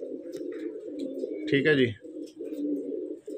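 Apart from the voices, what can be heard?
pigeons cooing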